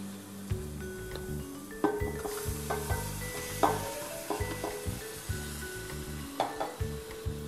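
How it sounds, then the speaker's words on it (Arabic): Garlic and shrimp sizzle and fry in a pan, a steady crackling hiss with scattered clinks and scrapes of stirring throughout, close and moderately loud. "وأيضا راح أضيف الثوم، راح ننزل الربيان"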